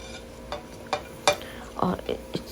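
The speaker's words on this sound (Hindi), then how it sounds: "इसको अच्छी तरह से 1-2 दफ़ा चम्मच हिला के मिक्स कर लेंगे" A spoon stirs tomatoes and onion in a pan for a samosa filling, making several separate scraping knocks over a soft background sizzle, with no voices.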